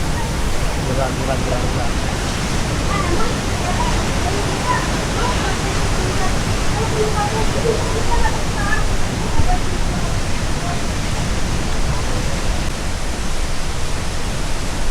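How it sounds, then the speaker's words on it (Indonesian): Waterfalls at Curug Cibeureum roar as a dense, unbroken rush of falling water, with strong gusting wind blended in and a voice speaking faintly over the steady noise. "Dua air terjun ini bagus sekali"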